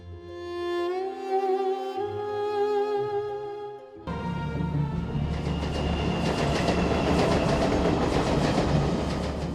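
A train crosses the Vasai railway bridge in Thane district, Maharashtra. A loud, sustained horn blast gives way to a steady, heavy rumble and clatter of wheels on the rails, close and continuous with no talk.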